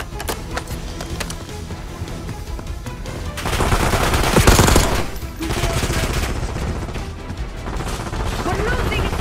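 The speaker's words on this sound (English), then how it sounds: "They're shooting! Get down!" Sustained gunfire from Call of Duty: Black Ops 6, set in a Gulf War mission, with rapid automatic bursts and shots layered under shouting voices, swelling into a louder crash of fire midway before settling back into steady battle noise.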